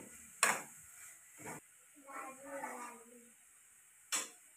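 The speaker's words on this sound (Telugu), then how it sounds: "మరలా ఒకసారి కర్రీ మొత్తాన్ని కలుపుతున్నాడు." A utensil stirs white brinjal curry in a pan, with a few sharp scraping clinks spaced apart and a soft sizzle between them, close and fairly quiet with faint voices in the background.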